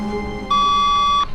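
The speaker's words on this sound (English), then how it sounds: "Phone's ringing." A phone ringing in the video game The Stanley Parable, a single loud electronic ring tone sustained for under a second, heard up close with no talking.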